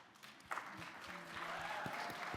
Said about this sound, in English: And a special round of applause to Star